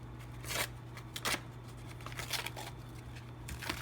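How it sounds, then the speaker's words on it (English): Scissors snip around an embroidered monster tooth fairy pillow, a run of close, soft crisp cuts with a faint steady hum underneath. "we're going to trim around the design"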